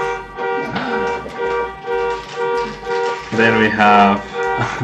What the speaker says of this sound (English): sorry about the awful sounds outside, guys. Some silly person who has their car alarm.